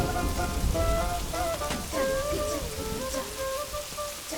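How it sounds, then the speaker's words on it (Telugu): Steady rain hisses down on surfaces outdoors, a continuous even wash of drops with faint tonal sounds drifting over it. "ఏంటన్నయ్య వర్షం పడుతుంది, ఎండ కాస్తుంది"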